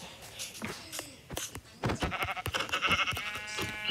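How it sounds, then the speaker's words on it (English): Sheep in the video game Minecraft bleat repeatedly, several short bleats in quick succession with brief clicks between, close and clear with no talk over them. "You just scared away the sheep."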